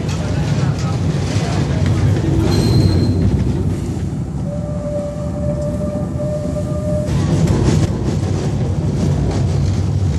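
A train approaches a lifting railway bridge in a played film about a bridge keeper and his son, rendered as a loud, continuous rumbling roar with brief whistle-like tones over it and no talking.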